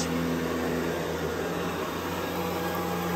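Close, steady airflow roar comes from a running Riccar Prima Tandem Air canister vacuum, with a constant low motor hum beneath it and no breaks or changes.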